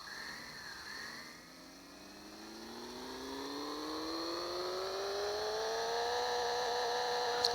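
A car engine in the mobile game Pixel Car Racer revs steadily upward, its pitch climbing smoothly over several seconds in one long, continuous rise, loud and clear with no talking over it.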